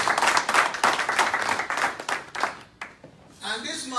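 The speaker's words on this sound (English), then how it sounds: "Please, let's give him a big round of applause." At a presidential aspirant's fundraising gathering in Dallas, an audience claps for an introduced speaker, brisk clapping that thins out and fades over a few seconds, then gives way to a short spell of other sound.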